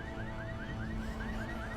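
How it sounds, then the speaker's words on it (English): Car alarm going off in The Secret World, a steady electronic wail of rapidly repeating rising sweeps, fairly loud over a low background hum, with no speech. "alerted by car alarm"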